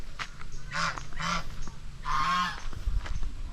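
Geese honk a few times nearby, loud nasal calls in short bursts with brief gaps, over faint outdoor background noise.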